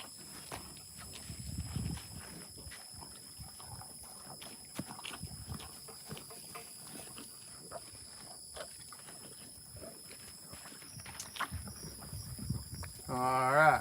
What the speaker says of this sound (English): It's also fun to listen to the horses eat, the way they chew and stuff.